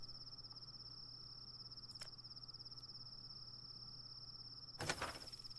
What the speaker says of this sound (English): that cricket is making a hell of a noise and I hate it